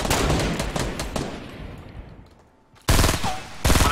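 Rapid bursts of automatic gunfire in the video game Fortnite Battle Royale, a loud sustained volley fading away, then two more sharp bursts close by after a brief lull.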